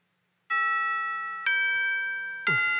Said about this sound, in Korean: 교회 종치네.